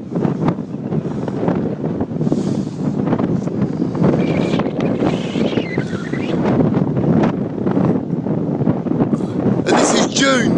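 Strong gusts buffet the microphone on an English beach by the Martello Towers in summer, a loud, constant roar of wind with people talking over it throughout.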